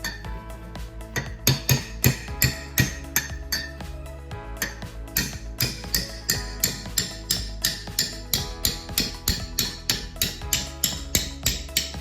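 Repeated sharp metallic strikes ring out in a steady rhythm, a hammer banging on a car muffler up close during a Holden Astra exhaust install, with some clattering in between.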